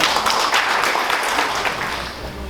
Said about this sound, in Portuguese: eu quero pedir uma salva de palmas ao pastor Josué Fonseca